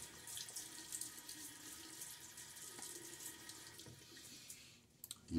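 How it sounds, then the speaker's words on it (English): Tap water runs steadily into a bathroom sink as a face is wetted before a wet shave, a soft, even stream with splashes that stops near the end, followed by a few louder clicks. "Let me get my face wet."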